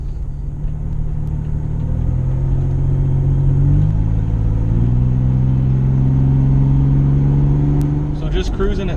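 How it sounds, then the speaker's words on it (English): Steady road and engine rumble inside a car cruising at about 45 mph on 33x12.50R15 General Grabber ATX tyres, heard as a continuous low drone with a slowly shifting engine tone and a faint click near the end. "all you should be hearing is road noise, engine noise, wind noise,"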